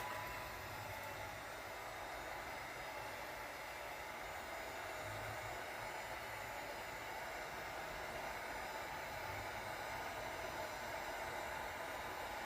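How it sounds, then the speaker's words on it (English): A heat gun blows a steady, loud broadband hiss of hot air across an epoxy resin countertop to clear air bubbles, running continuously and close by with no pauses and no voices. "Need to take the heat gun"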